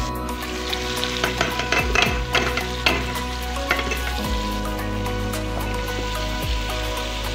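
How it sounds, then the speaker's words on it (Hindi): Bitter gourd is tipped into a pan of hot masala over a high flame, setting off a loud, steady sizzle and frying hiss broken by repeated scraping and stirring knocks throughout. "मिसाला तैयार है, अब इसमें मैं सब्ज़ी डालने लगा हूँ।"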